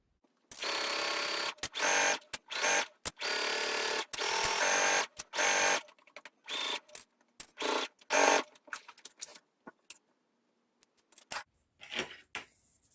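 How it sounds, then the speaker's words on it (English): Sewing machine stitching around the brim of a fabric hat, running in several steady bursts of a few seconds each with short stops, then shorter intermittent runs and clicks toward the end, loud and close. "So you're going to sew all the way around and then do a really careful press."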